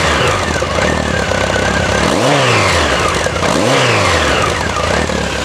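Honda CB1100 motorcycle engine, loud and close, idling with a low muffled throb and then blipping the throttle twice in quick rising and falling revs.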